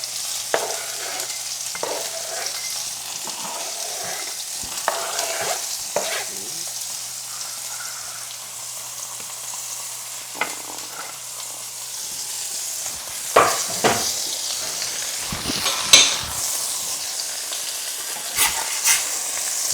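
Pork schnitzel frying in a pan makes a steady oil sizzle that runs the whole time, punctuated by occasional utensil clicks and scrapes, with a louder burst of crackling toward the end.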